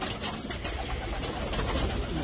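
Tippler pigeons coo steadily in a busy loft in New York City, close and dense, with the soft calls overlapping among rustling and outdoor noise.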